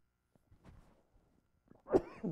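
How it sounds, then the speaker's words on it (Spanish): A single sharp cough bursts out from a preacher during a sermon after a few faint soft noises, close and fairly loud, followed by a brief rougher sound. "Estoy con una tosecita aquí."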